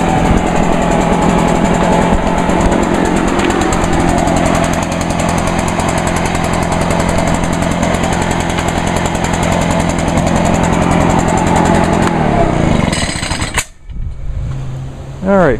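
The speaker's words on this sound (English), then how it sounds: "I'm going to bring all 3 of the blowers right here in the yard, and I'm going to start them up. Just hear them both running at the same time." Three Echo leaf blowers run together nearby in a yard, a loud, dense, high-pitched engine whine that holds steady for several seconds before the engines cut out near the end.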